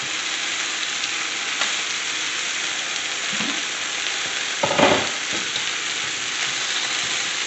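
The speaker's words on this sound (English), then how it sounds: "I'm just browning them, not cooking them through" Chicken pieces browning in a pan for soy-garlic chicken sizzle steadily and loudly up close, with a couple of soft clinks and shuffles as the pieces are moved.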